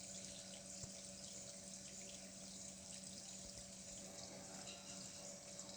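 Water flows steadily from an automatic garden watering system with a motor-driven pump, a faint constant hiss and trickle with a low hum beneath and no talking.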